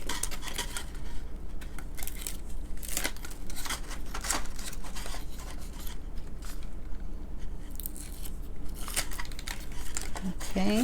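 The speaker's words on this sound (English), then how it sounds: "I'm going to peel off the adhesive" Adhesive backing being peeled off paper card pieces for a tunnel card, repeated crisp tearing and crinkling strips close by, one after another over a continuous background.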